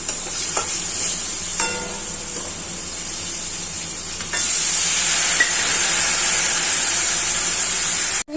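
Ash gourd goes into a pan of sizzling hilsa fish head masala, a close, steady hiss with a few knocks and scrapes, then the sizzle surges louder and brighter as the pieces land in the hot oil.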